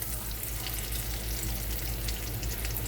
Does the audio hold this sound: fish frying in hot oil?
yes